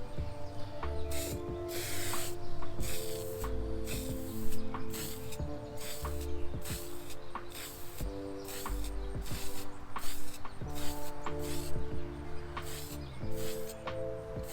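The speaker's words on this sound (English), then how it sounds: "I'm just going to use this spray paint, this paint and primer." An aerosol can of paint-and-primer spray hisses in repeated bursts of spraying onto a classic camper exterior, close and steady, with music playing in the background.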